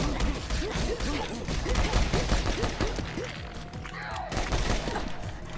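Rapid gunfire in a video game set in a subway station crackles in dense, overlapping bursts of sharp shots, loud and continuous, with a few faint voice-like sounds mixed in.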